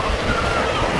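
Water sprays and splashes steadily at the Hidropark Alcudia water park in Mallorca, a dense, even hiss of falling water filling the whole moment without pause.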